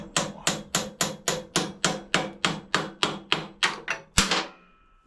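Steady rhythmic hammer blows, about a dozen evenly spaced sharp strikes, ending with one harder hit and a ringing tail.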